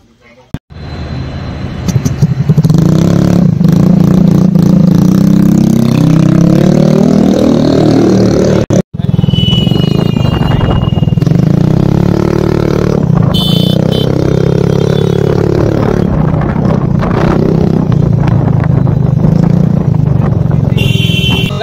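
Yamaha Ray ZR BS6 2023 scooter fitted with a modified Flyway exhaust, its engine starting up and then running continuously at close range, with revving and shifting pitch as it pulls away, with someone talking over it throughout.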